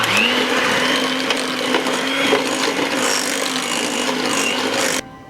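An electric mixer beats homemade cream cheese frosting for a pumpkin cake, whirring at a steady loud pitch with a scraping rub of the beaters in the bowl, then shutting off abruptly near the end.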